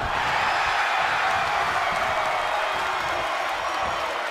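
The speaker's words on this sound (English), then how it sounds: "The sound of this crowd is deafening, and he's asking for more." A wrestling arena crowd in the video game WWE 2K22 roars in a continuous, loud, dense wash of cheering during a Goldberg match, with no single voice standing out.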